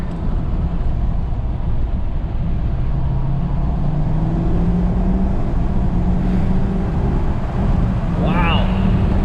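An L5P Duramax diesel truck with an EDGE EVO HT2 tune pulls hard after a gear change, its engine drone rising steadily in pitch from inside the cab over road noise.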